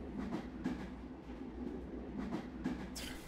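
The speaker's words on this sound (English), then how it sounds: "holy shit, fucking hurry up, the train is moving" A train moves in the Kuukiyomi video game, heard as a steady rumbling ride with a rhythmic clickety-clack of wheels on rail joints, fairly quiet and continuous, ending in a brief hiss.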